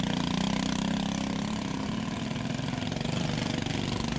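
Stock lawn mower tractor engine running hard through a wooded section of a mud mower harescramble race, a steady loud drone with little change in pitch across the whole stretch.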